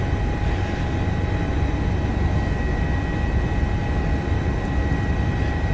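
Engine of an HPG H145 helicopter in MSFS 2024, idling on the ramp with a steady, loud turbine whine and low rumble that stays constant throughout, with no talk.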